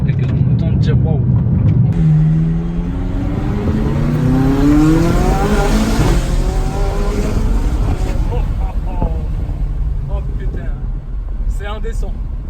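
A 790 hp McLaren on bioethanol with a Stage 2 engine tune pulls hard, its loud engine note rising in pitch through the gears before easing off, while people talk excitedly over it.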